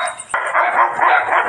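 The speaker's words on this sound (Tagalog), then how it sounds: "Grabe naman ang mga aso dyan." Dogs bark and yip excitedly at night, rapid overlapping barks close by and loud, continuous through the short stretch.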